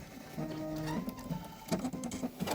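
Sewing machine stitching a quilt tile at a seam, a quick mechanical whirring run that stops and restarts in short bursts.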